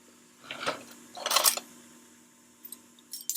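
Electric mixer beating cowboy cookie dough: a low motor hum under short bursts of loud whirring and rattling, with quieter clicks near the end and no voices.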